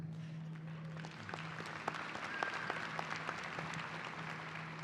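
A large audience applauds at a fall university commencement ceremony in 2023. The sustained clapping is dense and steady, with a faint hum underneath and no speech over it.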